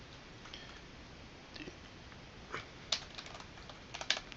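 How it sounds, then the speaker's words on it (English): Typing on a computer keyboard: faint, sparse clicks at an irregular pace, a few sharper key presses standing out, with no voice and a quiet background. "then I can type the comment that I want."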